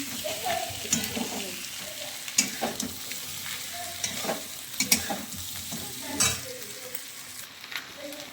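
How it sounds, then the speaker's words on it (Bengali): Meat curry stirred in a hot pan for a thin gravy, with soft sizzling under repeated scraping strokes of a spoon against the pan, close and moderate, no talk. "এই মাংসটা দিয়ে দিয়েছি, নাড়াচাড়া হচ্ছে।"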